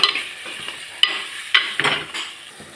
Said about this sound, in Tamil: கட் பண்ணி வச்சுருந்த காயையும் போட்டு வதக்கிப்போம்.